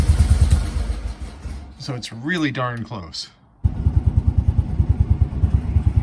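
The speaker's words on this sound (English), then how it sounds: "it is running and idling right now" Small single-cylinder engine of a barn-find BMW Isetta idles with a rapid, uneven putter, dropping away while someone speaks briefly, then returning loud and close with a steady chugging beat.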